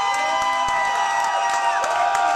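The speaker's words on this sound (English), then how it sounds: "round of applause for the troops overseas" A comedy show audience roars with cheering and whoops, layered with shouting and some clapping, as a loud, dense crowd swell that stays full throughout.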